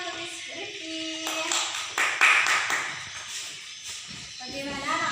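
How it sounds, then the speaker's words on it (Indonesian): Children in a classroom reading lesson clap for a classmate, a short burst of uneven, fairly close hand claps set among children's voices and chatter before and after. "Tepuk tangan untuk Rifki."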